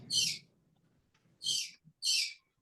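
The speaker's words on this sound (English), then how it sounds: "Somebody's got a bird." A pet bird gives three sharp, high calls indoors during a morning Torah study session, each short burst separated by gaps of near silence, fairly close and clear against a quiet room.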